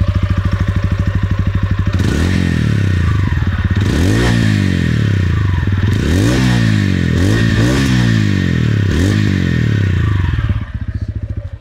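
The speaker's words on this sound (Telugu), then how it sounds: "సో ఇక్కడ రోనిన్లో ఎగ్జాస్ట్ నోట్ ఎలా ఉందో ఒకసారి చూద్దాం మనం." A TVS Ronin motorcycle idles with a steady, thumping exhaust note, and several sharp throttle blips rise and fall over it. The engine is loud and close, alone without talk, and settles back to idle near the end.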